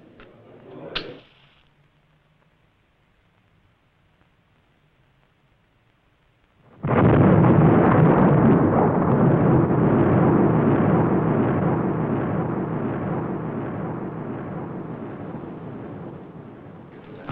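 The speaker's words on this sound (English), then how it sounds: "the first atomic bomb had been successfully detonated at Los" An atomic bomb detonation bursts in suddenly after near silence and a faint click, then a loud, deep rolling roar that slowly fades over about ten seconds.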